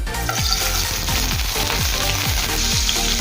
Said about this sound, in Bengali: তেল গরম হয়ে গেলে তেলের মধ্যে দেবো কেটে রাখা পনিরের পিসগুলো।